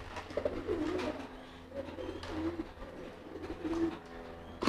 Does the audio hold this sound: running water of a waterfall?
no